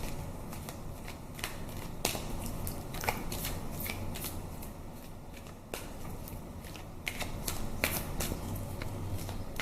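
Tarot cards being shuffled close by, a steady papery riffling with repeated sharp snaps as the deck is split and bridged, continuing throughout with no talk.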